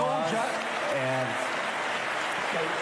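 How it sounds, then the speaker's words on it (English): An audience at a debate applauds in a dense, continuous wash of clapping from start to finish, with a voice speaking over it briefly. "We'll give you a round of applause."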